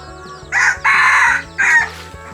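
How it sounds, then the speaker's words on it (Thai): Chickens at a small home garden farm with ducks, crowing and clucking loudly in three bursts while feed is scattered for them, over a low steady background. "น้องกิฟก็จะน ำอาหารที่ผสมเสร็จเรียบร้อยมาให้น้องไก่กับน้องเป็ดนะครับ"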